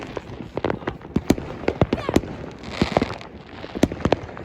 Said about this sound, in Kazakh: Қазір біз салют көруге мына крышаға мінеміз.